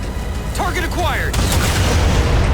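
In Halo 4, a railgun fires from a turret with one loud, heavy boom that leaves a sustained roaring rumble amid constant battle noise, while a voice speaks just before the shot.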